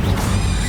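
A short, loud burst of the Incendio fire spell cast in the Hogwarts Legacy video game, a dense crashing whoosh lasting under a second.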